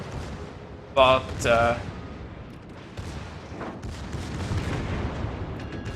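Moskva cruiser main guns in World of Warships firing a salvo of two loud, close booms about half a second apart, followed by a rumbling aftermath under a faint voice.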